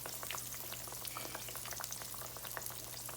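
Green tomato slices sizzle and crackle steadily in a hot pan, a soft continuous frying hiss with scattered pops over a faint hum.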